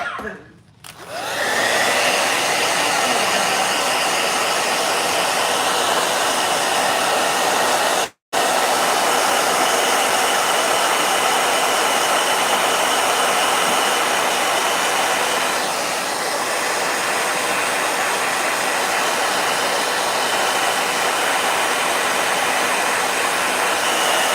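A blow dryer runs steadily for the full stretch as a loud, continuous broadband whoosh, cutting out briefly once near the start and once for a split second midway before resuming.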